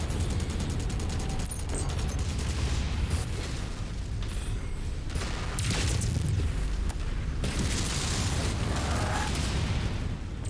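Mech explosions in the MechWarrior 5 video game as an enemy target is destroyed, heavy booming blasts and bursts of weapon fire running continuously and loudly throughout, dense with rumble.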